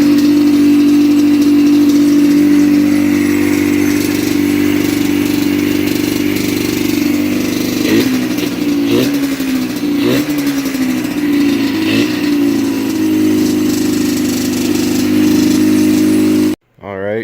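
A rebuilt Yamaha Banshee ATV engine runs steadily at a loud, close idle, with a few brief throttle blips in the middle before it cuts off abruptly at the end.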